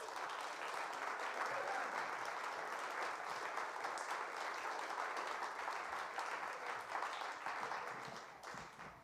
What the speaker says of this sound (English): So let's give them a warm round of applause.